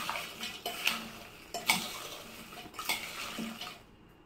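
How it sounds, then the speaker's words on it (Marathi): Chickpeas and garlic frying in a pan while being stirred, a close scraping and clattering of a spoon against metal in several quick strokes over a soft sizzle, no talk. "आता तुम्ही आवाज बघू शकता आपल्या चण्यांचा आणि लसणाचा पण"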